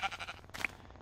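A Minecraft sheep gives a short, close bleat, followed by a second quick bleat a moment later, fairly quiet.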